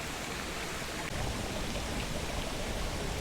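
Creek water flows steadily at a backpacking campsite near Seneca Creek, a constant broadband rushing hiss with no breaks, close and fairly even in level throughout, without any voices.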